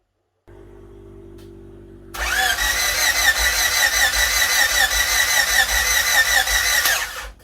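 A Honda Civic hatchback engine, after a starter solenoid fix, cranking with a low steady hum that gives way to a loud, rough-running engine with a high whine over it. It runs on strongly until it cuts off at the end.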